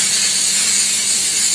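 Steady hissing steam with vacuum extraction as fabric is flushed during spot cleaning, a continuous broad rush that stays loud and even for the whole short stretch.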